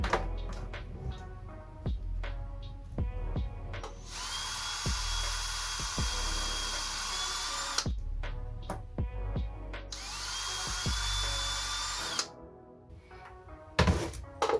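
Power drill whirs in two long high-pitched runs, separated by quieter clicks and knocks of handling, with a final burst of clatter at the end.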